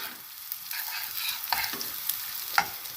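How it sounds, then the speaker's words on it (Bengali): Broken wheat frying with cumin in a pan, a steady soft sizzle broken by frequent scraping stirs and a few sharper clinks, close up with no talking. "এবার আমি ডালিয়াগুলোকে ভালো করে ভেজে নেব"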